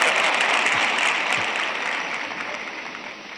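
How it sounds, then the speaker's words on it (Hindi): An audience at a talk breaks into clapping, a dense burst that starts full and slowly thins over a few seconds, with faint voices underneath. "देखो आपकी पसंद की बात आई तो ताली बजाते हो आप लोग"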